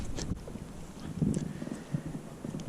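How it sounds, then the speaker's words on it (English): Wind gusts against a lake bank while bass fishing from a boat, heard as a steady close rumble of wind buffeting the microphone with faint water and boat knocks and no talking. "Now, the wind is blowing up against this bank."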